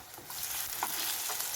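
Cabbage and coriander pakoras fry in hot oil, giving a soft, steady sizzle and crackle close by, with faint stirring and no talk.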